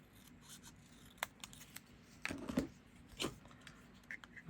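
Scissors trim a small stamp sticker out of scrap paper for a holiday tag, giving a few quiet, separate snips and paper rustles spaced across a soft background.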